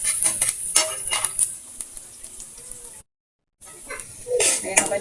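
Aromatics browning in a pan for pineapple chicken sizzle steadily with scattered clinks of a utensil against the pan, broken by a brief silent gap before the frying resumes louder.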